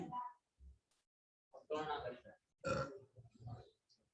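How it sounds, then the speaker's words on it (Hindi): A person burps loudly, a long croaking eructation with a shorter one after, close and alone without talk. "डकार आया है कोरोना के नाम पे।"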